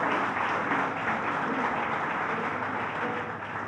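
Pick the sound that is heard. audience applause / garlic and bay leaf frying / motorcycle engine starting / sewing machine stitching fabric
audience applause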